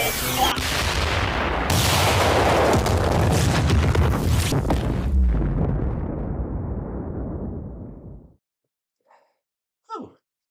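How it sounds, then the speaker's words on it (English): A huge nuclear-style bomb blast in a chaotic Wild West roleplay game, a loud sustained roaring rumble lasting about eight seconds before cutting off, followed by a couple of faint brief sounds. "Is that a nuke bomb?"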